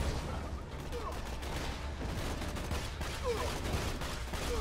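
Gunfire in the video game Borderlands 2, with a steady run of shots close by amid busy game action, and voices talking over parts of it.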